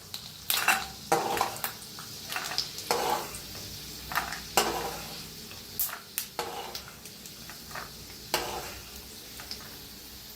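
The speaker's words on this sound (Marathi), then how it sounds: "तेल चांगलं गरम झालंय, भाजून घेऊया। छान असं भाजायला लागले ते बघा शेंगदाणा" Peanuts roasting in hot oil in a pan, with a steady sizzle throughout and repeated close scrapes and clinks of a spoon as they are stirred, no voices.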